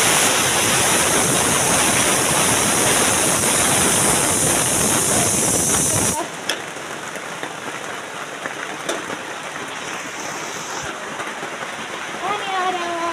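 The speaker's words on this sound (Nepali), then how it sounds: "खोला पनि हेर्नुहोस् न गाइस, बढेर कत्रो भइरहेछ।" Heavy rain and a swollen, rushing river make a loud, dense roar for about six seconds, then cut to a quieter scene of softer rain and scattered drips with faint background activity.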